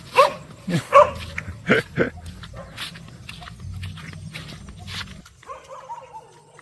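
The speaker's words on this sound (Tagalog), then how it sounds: "Ang daming aso." Several dogs bark in quick bursts close by, the yaps clustering early, then give way to quieter scuffling and a few softer whines.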